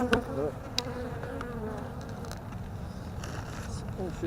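A honeybee colony buzzes during a spring hive inspection, a dense, continuous drone of many bees close by, with faint human voices in the background.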